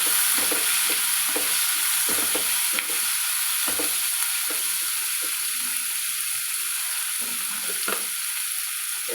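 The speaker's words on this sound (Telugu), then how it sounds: "ఉల్లిపాయ కొంచెం సాఫ్ట్ అయినాక కట్ చేసుకున్న ఈ 4 టమాటా ముక్కలు వేసుకోవాలి." Onion and tomato pieces frying in a pan for chutney, a continuous sizzle broken by repeated scraping and stirring strokes of a spatula, close and steady, with no talking.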